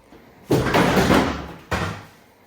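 A loud scraping pull ends in a sharp snap, followed by a second abrupt crack as a plastic bumper clip pops free on a Dodge Charger.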